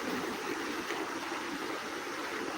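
Floodwater surges through a village stream in a constant broadband rush, loud and near, unbroken for the whole stretch with no talking.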